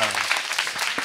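A studio audience on a Korean talk show claps in a brief, dense burst of applause, with a voice over it at the start.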